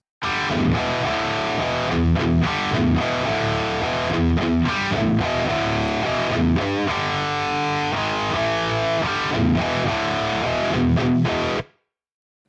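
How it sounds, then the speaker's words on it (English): Electric guitar played through the hot rod channel of a Nunchuck PolyChrome DSP amp plugin, a loud, continuous distorted riff with chugging rhythm chords and sustained notes, alone for about eleven seconds before cutting off. "The hot rod channel has a more pronounced mid-range punch and makes it super easy to dial in some awesome rhythm or lead tones"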